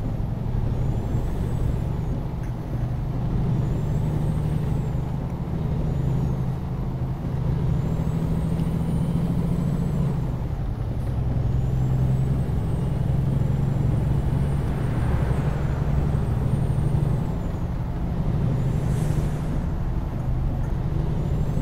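In American Truck Simulator, a heavy truck engine drones steadily and loudly throughout, with a hiss of air brakes partway through over continuous road noise.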